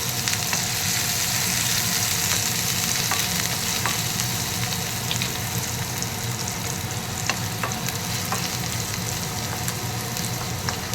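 Chopped garlic and green chillies frying in a little hot oil, a steady close sizzle with occasional stirring scrapes, continuous and even throughout.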